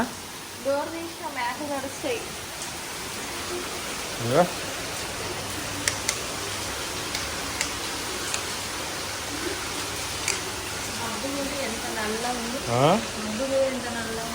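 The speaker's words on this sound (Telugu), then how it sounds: "ఇగో వర్షము ఇట్లా పడుతుంది" Steady heavy rain hisses in the background while people talk over it intermittently, with water coming indoors.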